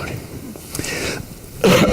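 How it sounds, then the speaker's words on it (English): A single sharp cough bursts out loudly near the end during a talk session, after a stretch of quiet room noise and faint background voices. "I coughed the wrong direction"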